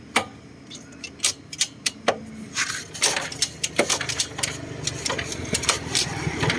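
A Honda Wave 125i motorcycle engine idles as it is shifted into gear, giving a series of sharp ticking knocks over a low steady running hum, close and fairly loud.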